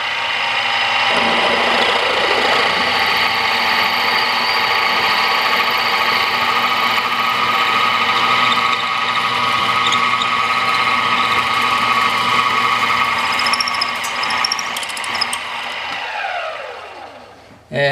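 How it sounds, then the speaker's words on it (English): A machine drill with an 11/32-inch bit runs continuously through a hole with a steady whine and grinding hum, close and loud, then spins down at the end. "And now I've progressed to an 11/32 drill here"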